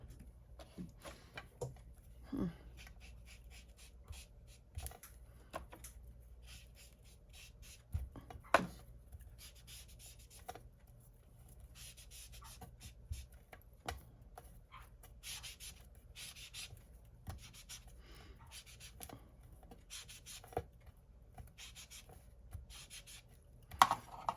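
Pen inking a drawing, heard as soft, intermittent scratching and rubbing strokes on paper, close and quiet, scattered in short bursts with occasional sharper taps.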